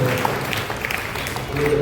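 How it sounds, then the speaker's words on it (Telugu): A church congregation applauds at a triduum prayer service, a dense, steady clapping that fills the room at moderate loudness for the whole short stretch. "గట్టిగా చప్పట్లు కొట్టాలి."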